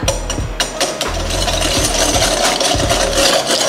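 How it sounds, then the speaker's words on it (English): A whisk beats a batter of fermented tofu, five spice powder, white pepper and sugar in a bowl, with quick, rhythmic scraping strokes that run close and steady throughout. "And now we whisk them all up."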